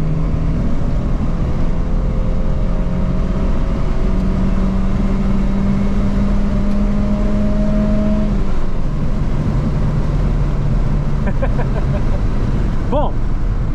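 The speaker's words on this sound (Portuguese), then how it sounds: "Comecei a acelerar." A Volkswagen Gol 1.6 car accelerates hard from 80 to 140 km/h, its engine drone rising steadily in pitch under constant road and wind noise, heard from inside the cabin.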